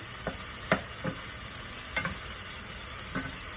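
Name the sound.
sautéing thyme and Scotch bonnet pepper in pot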